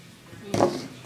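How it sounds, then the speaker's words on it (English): A knife snaps through fishing line with a single sharp, close cut, and a voice follows right after. "Cut the line."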